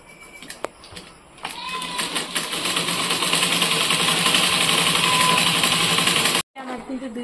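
A sewing machine stitches fabric, starting with a whir and running at a steady buzzing pace for about five seconds before stopping abruptly, with some talk around it.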